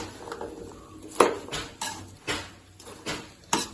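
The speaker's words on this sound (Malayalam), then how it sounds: "ഒന്ന് ഇളക്കി കൊടുക്കുക കേട്ടോ" A spoon scrapes and clinks against a pot while mango pickle is stirred, giving a series of short, fairly close metallic knocks at an uneven, unhurried pace.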